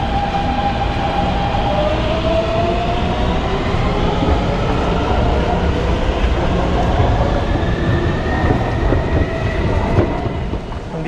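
A train at Taipei Main Station rumbles loudly and continuously, with steady rail noise, clatter and faint rising squeals from the wheels throughout, and no talking.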